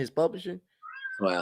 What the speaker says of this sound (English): I'm sorry about my cat crying